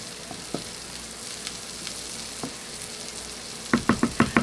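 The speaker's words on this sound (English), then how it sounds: "Give it a nice stir." Spaghetti sauce with dry red cooking wine sizzles in a pan while a spoon stirs it, soft scattered scrapes giving way to a quick run of rhythmic stirring knocks near the end over a steady frying hiss.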